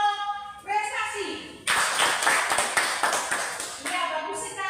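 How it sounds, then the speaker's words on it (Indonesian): A classroom of students claps for a high-achieving group, a short burst of loud, busy applause that comes in after talking and stops before the talk resumes. Voices are heard before and after the clapping. "Tepuk tangan untuk kelompok prestasi"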